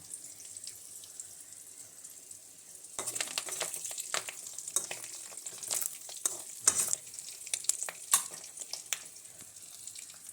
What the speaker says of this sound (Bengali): এদিকে মাছের ডিমগুলো ভাজছি